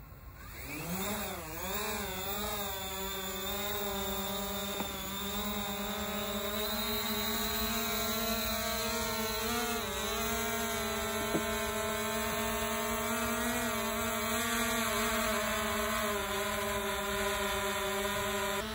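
Drone fitted with LED lights taking off, its motors spinning up into a loud steady high-pitched whine that rises and wavers slightly as it climbs and hovers nearby.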